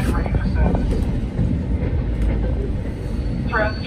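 Interior of a moving Victorian Goldfields Railways passenger train: a steady, loud low rumble of wheels and carriage noise fills the whole stretch, with a brief higher squeal near the end.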